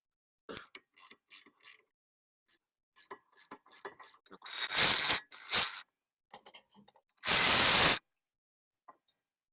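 A hand ratchet works loose the 18 mm caliper bracket bolts on a GM truck or SUV brake job, giving sparse bursts of quick clicks with short pauses, plus two loud hissing sprays in between.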